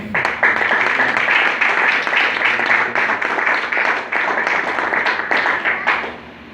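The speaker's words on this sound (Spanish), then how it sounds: "Denle un aplauso al Señor" A church congregation applauds for the Lord during a sermon: steady, dense clapping from many hands that fills the whole stretch, then tapers off at the end.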